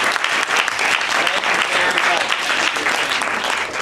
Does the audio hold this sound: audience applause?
yes